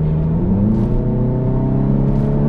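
A VW Golf 7 GTI engine drones steadily from inside the car while driving in normal mode, a loud, even hum with faint tonal whine and no talking.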